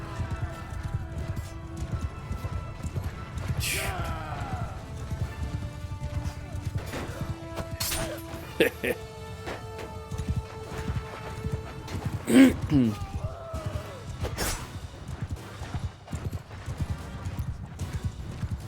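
Galloping cavalry hooves and clattering combat noise in a snowy battle in Mount & Blade II: Bannerlord, with occasional horse whinnies and crashes, under a steady background din while someone talks.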